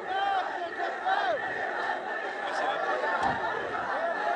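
A large crowd at a political rally in Balochistan shouts and chants continuously, with dense overlapping voices and no pause.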